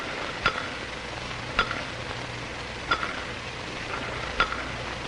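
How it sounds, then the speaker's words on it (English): A spoon stirs tea in a cup, sounding as four evenly spaced light clinks over a quiet, steady background with no voices. "I can stir my tea so as to cause a circular motion."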